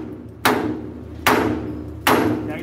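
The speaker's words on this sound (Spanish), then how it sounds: "Martillacito ahí para ver si la metemos a presión." A small hammer strikes a truck chassis part three times at a steady spacing, each sharp metallic hit close and loud, with a ringing tail that decays before the next blow.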